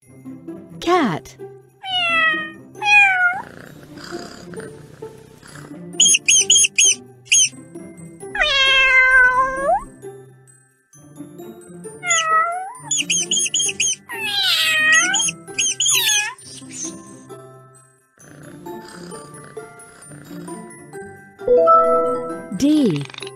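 A cat meows many times, near and loud, in repeated drawn-out and rising calls across the stretch, with a voice speaking between some of the meows.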